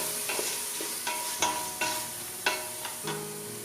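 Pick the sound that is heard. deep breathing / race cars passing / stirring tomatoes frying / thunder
stirring tomatoes frying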